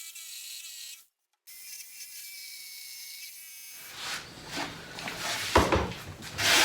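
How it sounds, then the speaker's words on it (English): A jigsaw cuts the marked corners out of a wooden piece for a console build, starting after about four seconds of low quiet hum as a loud, rough, uneven rasping buzz close by, with no talking. "we're ready to cut that now with our jigsaw"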